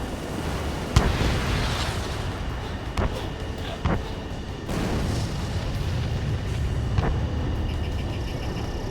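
Gunfire and explosions from the air-combat video game Ace Combat 7: Skies Unknown, with several sharp, loud blasts at irregular intervals punching through a constant low roaring rumble.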